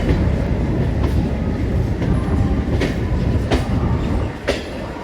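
A local train departing Howrah for Bolpur is heard from inside as a loud, steady rumble with regular wheel clicks over the rail joints.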